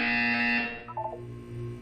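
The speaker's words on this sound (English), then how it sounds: "When you hear the buzzer, look down at the floor." A buzzer in the video game Portal 2 sounds once, loud and close, a steady electronic drone for about a second over a low background hum, then fades into faint tones.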